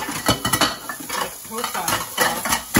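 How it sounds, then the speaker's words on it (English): Dishes, cutlery and pans clatter and clink as they are placed on a kitchen drying rack. The sharp, irregular knocks come close and loud, one after another. "put dishes on the drying rack"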